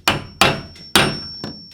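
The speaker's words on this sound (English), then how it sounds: "just take your hammer and pound it to lock it in place" A hammer gives four light, sharp metallic taps to a 13 mm deep socket, driving it onto a garage door roller sleeve. Each strike rings briefly up close, with uneven gaps between them and no talking.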